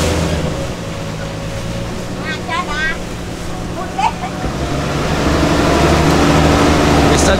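Waves slap and wash around a boat on Tonle Sap lake in drizzly, windy weather, with steady wind rumble and a low motor hum beneath, growing slightly louder toward the end.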